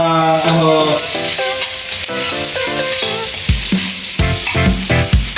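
Steady sizzling of food frying in a pan, with stirring, heard under melodic background music and no speech.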